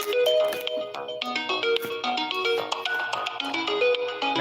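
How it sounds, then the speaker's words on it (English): A phone ringtone plays loud and close, a busy melodic tune of bright repeating notes that carries on throughout with no talking. "I hear the phone ringing."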